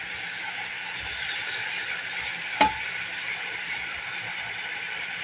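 Chicken with soy sauce is stirred in a pot for minalunggayang manok with papaya, making a continuous low sizzle broken once by a single sharp scrape or clank partway through.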